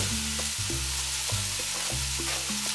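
Potatoes go into a hot tajine pan, frying with a steady sizzle while they are stirred with repeated scraping strokes, close and fairly quiet, with no voices.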